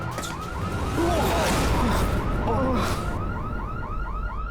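A security alarm wails with a repeating rising electronic tone in a rapid cycle, loud and continuous, over a busy background at first, then ringing on more alone.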